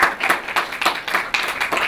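A crowd claps in bursts for a motivational talk, with sharp rhythmic clapping swelling and fading in about four waves, steady and fairly close with no voices.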